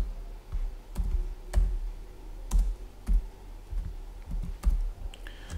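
Typing on a computer keyboard while writing JavaScript test code: a steady run of sharp key clicks with occasional heavier thumps, close and alone with no voice.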